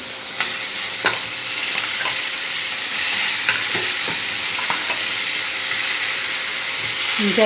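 Food fries in a pan while being stirred, with repeated scraping and clattering strokes over a continuous loud sizzle, and no voices.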